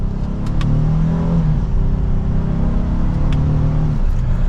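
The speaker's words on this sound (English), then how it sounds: "We'll drop down to second gear." Engine of a 2023 Honda Ridgeline RTL E pickup rising in a steady, loud rev after a paddle-shift downshift to second gear in sport mode, a continuous droning roar heard from inside the cab with no talk.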